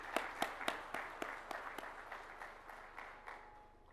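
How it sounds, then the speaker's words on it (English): A small audience at a CII food safety award ceremony claps for the food safety team and delegates; the scattered, fairly faint hand claps taper off over a few seconds, with no talking. "Please join me in giving a big round of applause to them."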